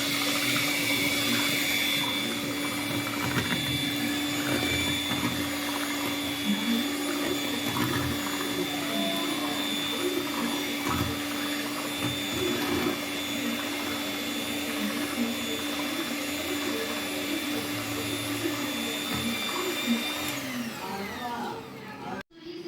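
Electric mixer blending a jackfruit mix with fresh cream for ice cream, a steady continuous motor whir running loud and unbroken for about twenty seconds before stopping abruptly.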